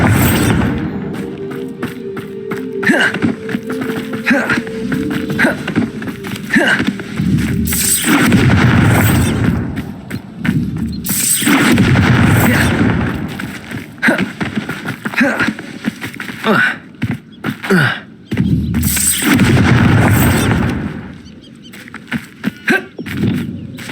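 Bombarda spell blasts in the Hogwarts Legacy video game, repeated loud booming explosions and bursts over dense battle noise and music throughout.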